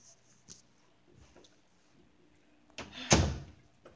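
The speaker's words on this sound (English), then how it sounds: "Shut the door, please." A door is shut inside a house with one solid thump, preceded by faint shuffling and small knocks in an otherwise quiet room.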